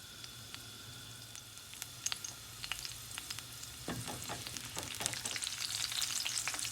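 Curry leaves and mustard seeds sizzle in hot oil in a pan, a steady faint frying hiss with scattered crackles and pops that thicken toward the end.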